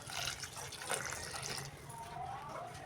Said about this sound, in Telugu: ఇప్పుడు ఇందులోనే కుక్ అవ్వడానికి సరిపడా వాటర్ యాడ్ చేసుకోవాలి.